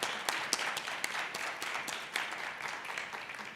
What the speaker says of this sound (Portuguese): Por favor, Alan, uma salva de palmas para o Alan.